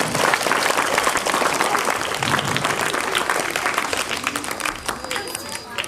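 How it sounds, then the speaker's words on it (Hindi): An audience claps loudly and continuously at a school Independence Day programme, a dense sustained round of applause that fades slightly toward the end, with a voice speaking beneath it. "कृपया इनके लिए तालियां बजा दी जाए।"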